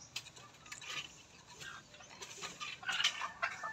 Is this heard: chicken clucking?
yes